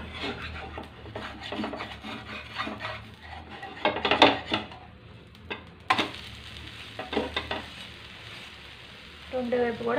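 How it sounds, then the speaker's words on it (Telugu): Egg masala dosa frying on its second side on a hot pan gives a steady close sizzle, broken by scraping and rasping strokes with sharper bursts near the middle. No one speaks. "రెండో వైపు కూడా కొంచెం కాలనిద్దామండి."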